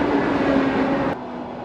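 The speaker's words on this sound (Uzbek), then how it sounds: "Bu koinotdagi eng zo'r poyezd" A cartoon space train pulling in at Neptune makes a loud, steady rail rumble with a tonal hum that abruptly drops in level partway through, with no talking.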